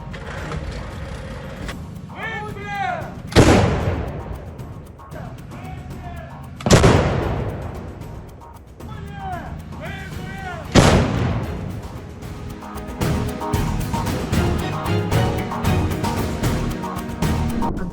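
Self-propelled artillery gun firing shells at Ukrainian positions: three loud, sharp booming blasts spaced a few seconds apart, each trailing off, over a steady engine rumble and clanking vehicle noise.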